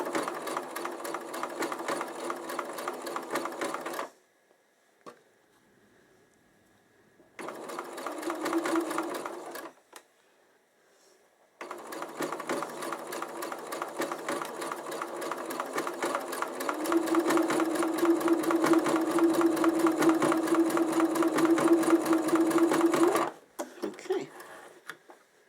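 An Uten sewing machine stitches in steady, fast mechanical bursts of whirring, stopping twice briefly before a long continuous run, close and loud with no talk.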